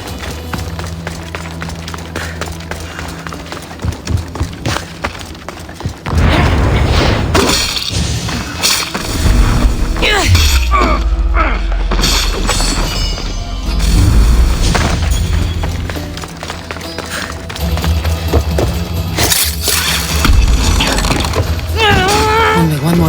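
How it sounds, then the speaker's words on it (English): Weapon racks smashed in Assassin's Creed Odyssey, with heavy booming thuds and breaking crashes amid game music, footsteps and effects, loud and dense throughout, with voices speaking at times. "Three weapon racks destroyed."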